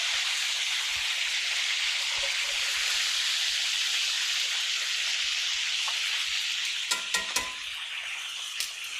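Chicken thighs fry in hot oil with a constant bright sizzle, joined toward the end by a few distinct splattering pops and crackles.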